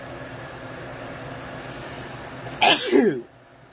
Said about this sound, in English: I might sneeze here in a minute.